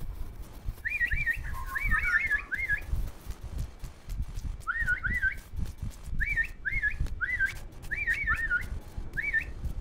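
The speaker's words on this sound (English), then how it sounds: "I'm whistling now." A person whistles a short tune in quick repeated phrases, pausing between bursts, with a low rumble underneath.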